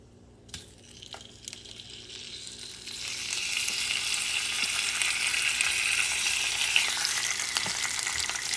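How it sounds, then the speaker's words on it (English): Lamb meat searing in a paella pan: quiet kitchen background, then a loud, bright sizzle swells up as the meat hits the hot oil and stays strong and steady. "you're going to cook some of this meat"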